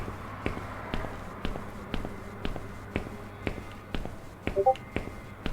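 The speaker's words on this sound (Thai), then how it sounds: "หรือว่ามันเสียงเท้าของคนที่เดินอยู่นอกตึก" Footsteps in the horror video game Not Alone, a steady series of light, evenly spaced taps at moderate distance, walking pace over a quiet room tone with no talking.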